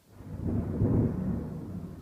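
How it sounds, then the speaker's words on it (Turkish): Thunder from a lightning strike during rain swells into a deep, heavy rumble that builds, holds and slowly fades over about two seconds. "Telefon algılayamadı bile az önce yıldırım düştü"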